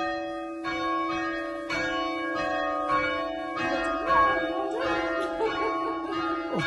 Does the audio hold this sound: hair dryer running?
no